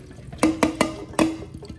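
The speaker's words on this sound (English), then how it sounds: "we're going to rinse this very well, probably for 3 or 4 minutes" Running water at a kitchen sink rinses salted cucumbers in a colander, splashing and pattering in four or five distinct bursts, close and fairly loud, with no talking.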